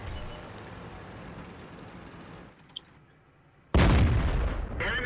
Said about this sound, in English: We ammo rack him for good measure